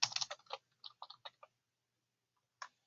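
Typing on a computer keyboard: a quick burst of light key clicks, then a few spaced taps and a single last click after a pause, close and quiet with no talk.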